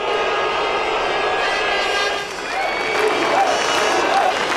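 Austrian fans at a 2002 Formula 1 race voice their disgust, a loud sustained roar of crowd noise with jeering swells, partly under a commentator's voice.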